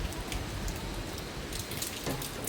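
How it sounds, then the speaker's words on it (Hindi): Rain falls outside a balcony in a dense, continuous patter of drops that stays close and fairly loud for the whole stretch. "ओ बारिश हो रही है।"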